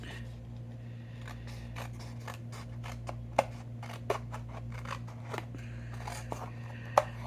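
Scissors snip paper trimmed for a handmade card, a string of small crisp cuts with a few sharper clicks, close and fairly quiet over a steady background hum.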